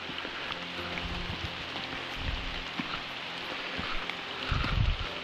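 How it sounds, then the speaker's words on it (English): Steady rain patters on a forest hiking trail in Cherokee National Forest, an even wash of drops close by with a few heavier low thumps near the end, no voices. "Here's the rain."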